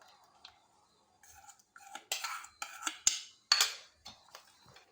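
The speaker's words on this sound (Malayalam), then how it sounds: "നല്ലോണം ഇളക്കി കൊടുക്കണം" A spoon scrapes and clinks in a pot as custard is stirred into boiling milk with muskmelon, giving several short, close scraping bursts with quiet gaps between them and no talk.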